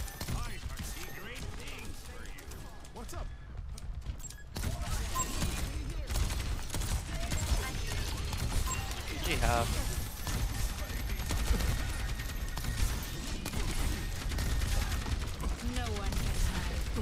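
Overwatch 2 gunfire crackles through dense, busy game sound, with a brief hush before the action picks up again and a player's voice talking over the shooting.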